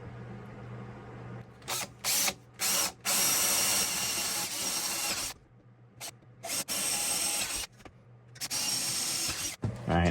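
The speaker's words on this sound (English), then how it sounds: "And then I'll drill 3" A power drill whines loudly in repeated bursts of varying length, drilling 5/16-inch holes for a servo motor mount on an industrial overlock sewing machine, starting and stopping several times with short pauses between.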